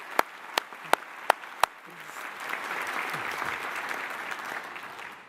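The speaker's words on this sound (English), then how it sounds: "let's have a clap." A university graduation ceremony audience breaks into applause, opening with a few loud isolated claps that swell into sustained, even clapping from a large crowd in a hall.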